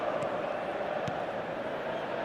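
Stadium crowd ambience from the eFootball 2025 football video game during an Inter Milan versus SE Palmeiras match, a steady, continuous murmur of spectators with a couple of faint thuds, no voices speaking.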